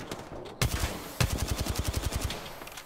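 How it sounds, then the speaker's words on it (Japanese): Machine-gun fire in the battle royale shooter Apex Legends: two sharp opening shots, then a rapid steady burst of rounds, loud and close, with no voices over it. "その銃声なんだ"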